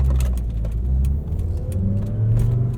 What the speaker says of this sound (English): I have an engine that sounds fantastic